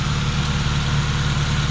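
A car engine idles steadily with a low, even rumble and hum, close and constant throughout, no voices, during a cooling system flush.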